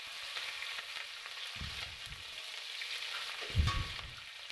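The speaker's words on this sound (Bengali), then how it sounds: "ভালোভাবে ভেজে নেব" Onions with whole cumin sizzle in oil for a Bengali chicken curry, giving a soft, continuous frying hiss with a couple of louder low thumps from stirring.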